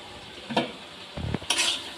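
Chicken is stir-fried with capsicum, onion and ground spices for chilli chicken. Brief bursts of sizzle and a few scraping stirs of a spatula in the pan stand out over a quiet background.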